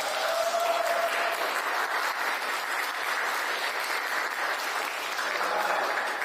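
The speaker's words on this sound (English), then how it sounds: "So, all right, give an applause." Steady crowd applause with scattered cheering fills an evening community gathering in Little Haiti, Miami, dense and continuous throughout at close range with no other sounds.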